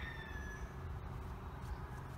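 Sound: several chickens clucking in a village

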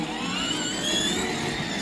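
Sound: battery-powered ride-on toy car running noisily

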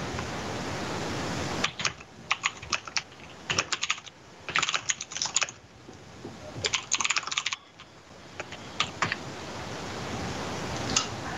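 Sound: typing on a computer keyboard for Skype

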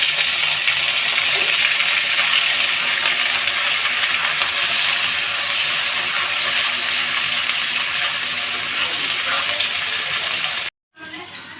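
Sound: onion, garlic and ginger paste frying in hot oil

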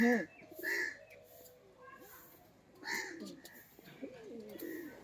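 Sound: pigeon cooing

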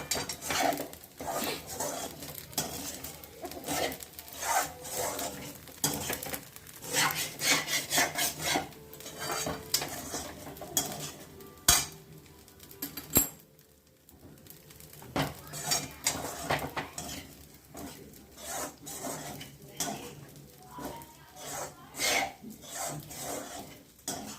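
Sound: stirring beans and lentil usili in a pan

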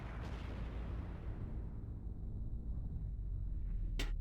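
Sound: bombs exploding in video game Borderlands 2

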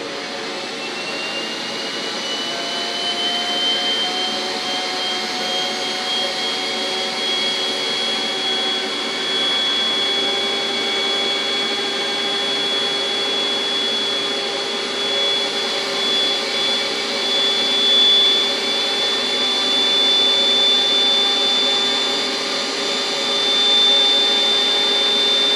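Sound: model F-18 jet turbine engine running as throttle is raised

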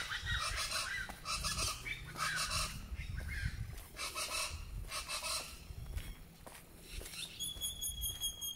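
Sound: birds calling outdoors

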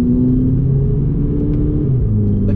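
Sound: VW Polo GTI engine revving in low gear

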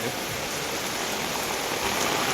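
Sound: heavy rain in Kudal

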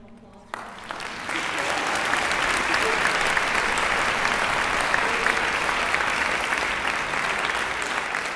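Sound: audience applause for four student musicians

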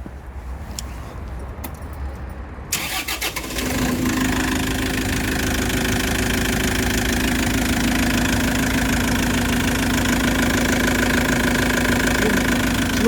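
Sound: Isuzu engine of GTS forklift started and idling

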